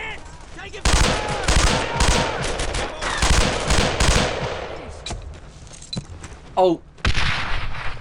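Heavy gunfire in the WWII shooter Brothers In Arms: Earned in Blood: dense machine-gun bursts and rifle shots crack loudly up close, with short pauses, while a soldier shouts briefly over the fighting.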